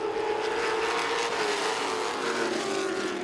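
Late model stock cars roar past at Southern National Motorsports Park during a twin 50-lap race, a steady loud engine drone with a rising and falling pitch as the pack runs through the turns.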